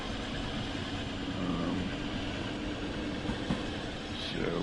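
A long train pulls out of a station in the simulator Train Sim World 2, giving off a continuous low rumble and rolling noise with faint clicks, steady and moderately loud throughout.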